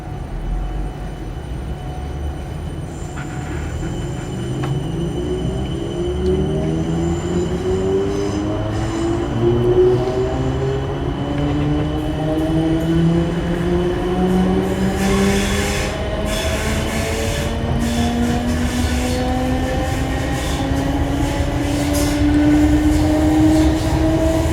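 South Western Railway class 455 electric train running on the suburban line towards Teddington via Richmond, with a steady loud rumble and rising and falling motor whine, plus some wheel squeal, sustained throughout with no talk.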